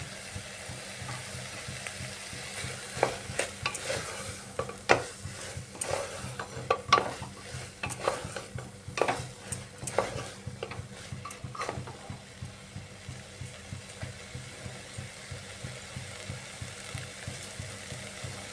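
Soybean and kidney bean ghugni frying in a pan as green chilies go in, a low steady sizzle broken by scraping stirs and spoon clatter against the pot, busiest early then settling to a quieter simmer.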